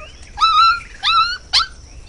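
A dog in a Hindi children's cartoon story whimpers three times, each a high, thin, pleading whine, the last one shortest, close and clear with no talking.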